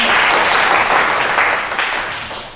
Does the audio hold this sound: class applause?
yes